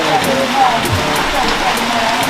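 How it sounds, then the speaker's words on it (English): Rain falling in Redlands, a steady wet hiss of drops on surfaces, loud and close, with faint voices and other background noise mixed in. "The rain in Redlands."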